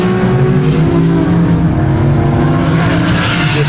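A drift car engine holds a loud, droning high rev during a tandem drift battle in New Zealand, with a steady tone and a gritty tyre-and-exhaust wash throughout.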